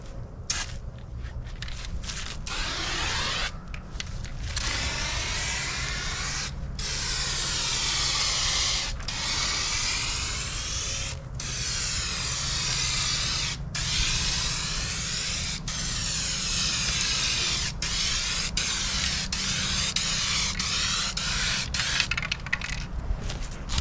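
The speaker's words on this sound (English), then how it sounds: "when I spray this one, I'm gonna come up to about right here with the next coat" Hissing spray of a paint gun laying gloss white paint on a car at home, a steady broadband spray running continuously for the whole stretch with brief dropouts between passes, close and fairly loud, no talking.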